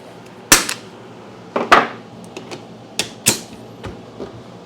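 A Porter Cable DA250B finish nailer dry firing: several sharp pneumatic snaps at uneven intervals, each with a brief hiss of exhaust air, close and loud against quiet background.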